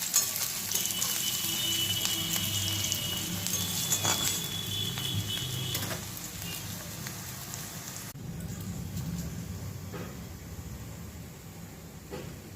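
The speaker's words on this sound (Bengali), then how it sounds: "সেগুলোও পেঁয়াজের সাথে খুব সুন্দর করে আমি লাল লাল করে ভেজে নেব।" Onions and curry leaves fry in oil in a kadai, giving a steady broad sizzle and crackle that continues throughout, slightly softer in the later part, with no talking.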